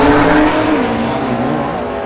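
A Chevelle and a 1963 Ford Fairlane launch off the starting line at an old-time drag race, engines loud and close with a roaring, revving acceleration that holds steady for two seconds.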